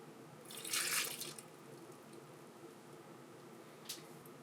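Cold water splashes into a pizza dough mix in a bowl, a brief bright pour near the start, then a quiet pause and one small drip-like splash, close and faint.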